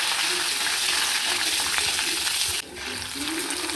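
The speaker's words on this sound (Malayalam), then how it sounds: "ചെറിയ ഉള്ളി അരിഞ്ഞിട്ട് കുറച്ച് ഞാൻ 3-4 കായ് മുളക് ഇട്ട് കൊടുത്ത്, കുറച്ച് കറിവേപ്പില അതിലിട്ട് കൊടുത്തിട്ട് നല്ലോണം വാട്ടിയെടുക്കണം." Sliced shallots, three or four dried chillies and curry leaves sauté in a pan with a dense, continuous sizzle heard up close, dipping briefly near the end.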